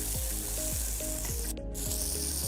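Corn for a Mexican street corn carnitas bowl sizzles steadily in hot oil in a pan, a continuous loud frying hiss with brief clatter of stirring midway.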